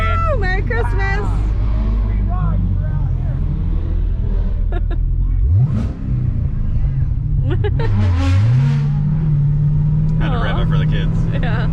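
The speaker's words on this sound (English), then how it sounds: "It's weird to rev an automatic." A Cadillac CTS-V wagon with an automatic transmission revs loudly up close, its engine rumble climbing and dropping in a few surges before holding a steady higher drone, as people talk excitedly over it during a Toys for Tots rally.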